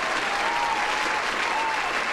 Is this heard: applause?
yes